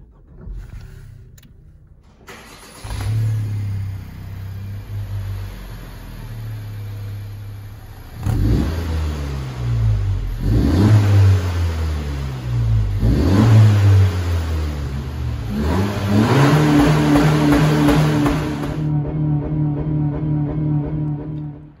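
Honda Civic GT with a 1.5-litre VTEC turbocharged engine starting and revving, rising throaty revs that climb and fall in several close, loud bursts before settling into a higher idle, with no talking.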